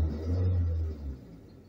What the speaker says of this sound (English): Let me rev my engine a little bit